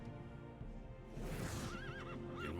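Horses in the video game Battle Realms, a loud whinny rising over a bed of game noise and hoofbeats, followed by wavering neighs toward the end, all fairly close.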